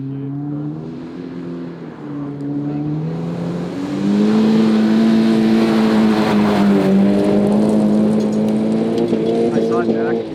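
Rally car driven on dirt at DirtFish, sliding out of shape, with a steady engine drone that climbs in pitch and grows louder midway, while people talk over it throughout.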